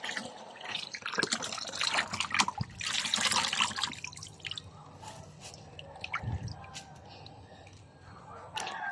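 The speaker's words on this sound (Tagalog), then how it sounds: "Dami natin saluyot na napitas. Ngayon, hugasan na natin." Freshly picked jute leaves being washed by hand in water, with faint splashing, dripping and squishy handling sounds that come in irregular bursts at close range and low volume.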